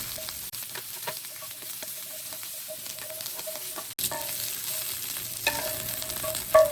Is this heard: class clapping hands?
no